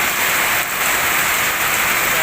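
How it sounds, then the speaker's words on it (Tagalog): Heavy rain pours down steadily in a dense, loud hiss, with no break across the whole stretch. "biglang bumuhos ang ulan"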